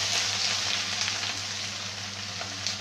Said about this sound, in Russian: Итак, овощи отправляются на сковородку.